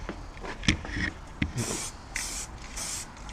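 Spray paint applied to a model of the Orca boat from Jaws in three short hissing bursts, close and crisp, after some soft handling clicks and rustles.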